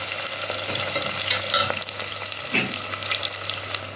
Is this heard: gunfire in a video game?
no